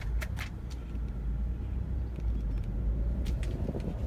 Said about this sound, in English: you can tell by the way it's turning on the concrete, it's definitely in four-wheel drive.